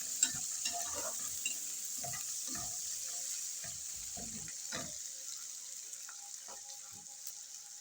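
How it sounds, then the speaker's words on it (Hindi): Oil sizzles steadily in a pan as the bhindi gosht base browns, with chicken then going in. Close stirring scrapes and spoon knocks break through the constant hiss. "इसको हम हल्का सा ब्राउन करेंगे और फिर इसमें हम जो चिकन रखा हुआ था थोड़ा सा उसको वो डाल देंगे।"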